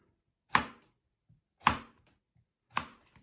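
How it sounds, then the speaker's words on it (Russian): Three crisp knife chops slicing zucchini into rounds on a board, evenly spaced about a second apart, close and clear with near silence between. "И нарезаю его точно так же на кружочки."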